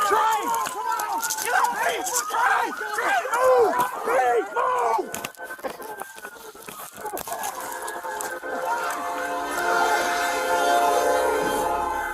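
A train rumbles past on tracks with a long horn blast, while a voice talks over police radio chatter and steady mechanical noise after a train struck a patrol car.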